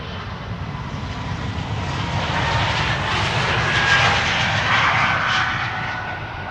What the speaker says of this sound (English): That's the Dreamliner that we saw.